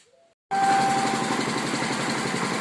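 A generator powering a vacuum seeder for pumpkins kicks on abruptly after near silence, then runs with a loud, steady, close mechanical drone.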